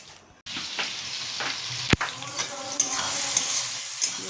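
Potatoes fry for a red, spicy aloo dum curry, skipping the boiling step, giving a steady close sizzle with stirring scrapes and a sharp clatter near the start, no voices.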